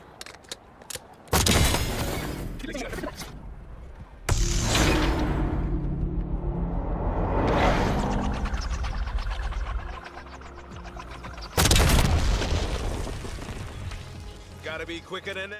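In Black Ops 6 on the Vorkuta map, a launcher fires a spawn tube shot followed by booming explosions and rumbling blasts, with heavy bursts recurring over several seconds alongside game noise and someone talking.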